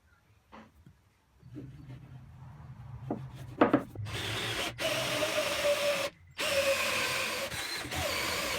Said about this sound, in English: I drilled a small hole through the centre of each dowel